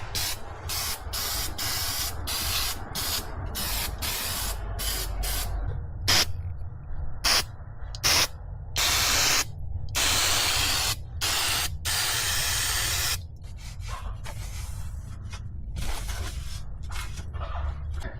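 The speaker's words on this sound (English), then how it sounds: "So just to clean up the oil, I just use brake cleaner." Brake cleaner aerosol hisses in repeated short bursts and a few longer sprays while oil is cleaned off the underside of a Porsche Cayenne Turbo during an oil change, close and fairly loud, with no talking.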